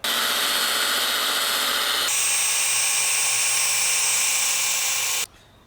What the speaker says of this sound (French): Je vais simplement le brosser pour faire un aspect vieilli au couteau.